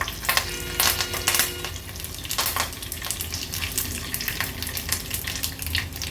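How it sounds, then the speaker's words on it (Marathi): Close, crackling sizzle of curry leaves frying in hot oil with cumin and asafoetida, with sharp pops and spatters bursting over a steady hiss. "कढीपत्त्याची पानं घालते फोडणीला."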